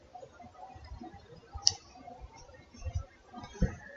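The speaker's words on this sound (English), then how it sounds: "So I'll click on it." A computer mouse is clicked while someone works in Google Data Studio, giving a couple of small, sharp clicks over faint background handling noise in a quiet room.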